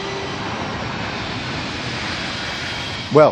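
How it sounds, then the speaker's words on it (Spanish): Low-flying airplanes near Rome Fiumicino airport produce a constant, loud jet-engine roar that fills the whole stretch, with a brief louder burst at the very end. "Los aviones vuelan tan bajo que a veces es imposible oírse uno mismo"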